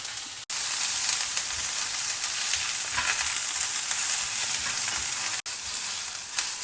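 Onions and crushed garlic fry in a pan with a loud, dense, steady sizzle and hiss, close up, with a couple of sharp breaks.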